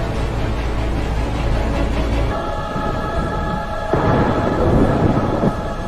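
Thunder rumbles through a stormy action-movie scene, a steady low roar that swells again partway through, with no voices.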